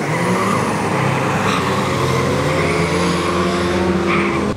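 Drag race car launching at a no-prep drag racing event, a loud sustained engine roar with tire squeal holding steady throughout, close and without speech.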